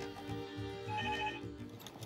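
A short, faint telephone ring, a brief electronic trill over a low background hum.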